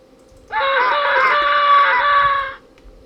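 Boy's scream in the video game Uninvited, a single loud, sustained shrill wail lasting about two seconds and ending abruptly, heard alone.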